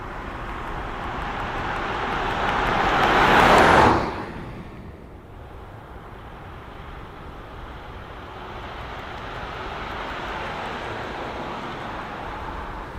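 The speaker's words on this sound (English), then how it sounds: "you do hear this typical diesel nailing sound" A 2021 facelift Toyota Hilux double cab Invincible with a 2.8 litre, 204 horsepower diesel driving. A broad engine and road roar swells to a loud peak, then drops away to a steady, lower drone.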